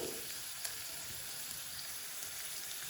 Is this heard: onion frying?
yes